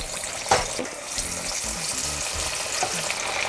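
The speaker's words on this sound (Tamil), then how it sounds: "இது நம்ம இப்போ சூடான எண்ணெயில் போட்டுடலாம்" Banana flower vada patties drop into hot oil and fry with a steady, close sizzle that carries on throughout, with a few faint splashes and bubbling sounds near the start. No one speaks.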